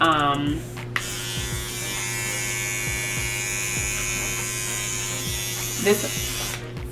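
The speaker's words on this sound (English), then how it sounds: "it's actually been a really nice product, is my electric toothbrush" A battery-powered electric toothbrush with a spinning top head runs with a steady, close, continuous buzzing whine for the whole stretch, with a brief rattle near the end.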